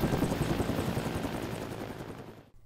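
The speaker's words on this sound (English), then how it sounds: "Within 30 minutes of that rescue of Amanda and baby Duke, a Snohomish County helicopter crew was already inbound" A Snohomish County rescue helicopter flies over a vast landslide disaster scene, producing a loud, steady rotor roar with rapid chopping pulses that holds throughout before dropping away abruptly at the end.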